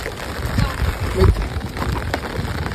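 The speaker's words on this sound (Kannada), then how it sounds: "ಫುಲ್ಲು ಮಳೆ ಬರ್ತಿದೆ" Steady heavy rain in Sagara, Karnataka, hisses and patters throughout, with a few louder splashes and muffled voices underneath.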